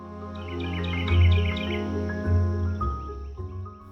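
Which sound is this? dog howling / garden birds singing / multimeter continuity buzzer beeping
garden birds singing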